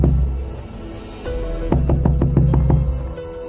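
Loud knocking on a door, a burst of about five quick, sharp raps over a low droning rumble in a dark horror-story setting.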